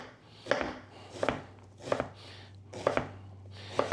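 A knife slices through an onion on a cutting board for a surimi seafood salad, making five crisp, evenly spaced cuts close up, with quiet pauses between them.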